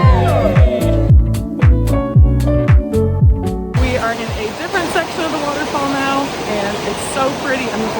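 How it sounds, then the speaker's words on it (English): Steady broadband rush of a waterfall at a crowded volcano tour site, continuous and close, with loud bursts and voices over the first half before settling into an even roar with faint chatter. "The boys are in the waterfall."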